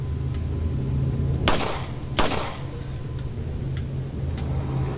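Two sharp gunshots in Resident Evil 4, fired a little under a second apart, each a loud crack with a short decaying tail over a low steady game hum, with faint ticks afterward.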